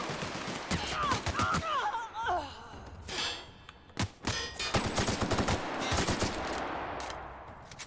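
Gunfire from allied companions in The Outer Worlds, a string of sharp shots and rapid bursts mixed with game effects and a brief vocal gasp, fairly faint overall.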